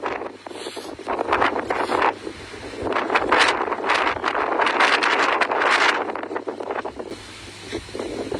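Strong wind gusting across the microphone at the Pha Hua Sing mountain viewpoint on Phu Thap Boek, Phetchabun, in thick evening fog; loud, continuous buffeting roar with surging gusts and no voices.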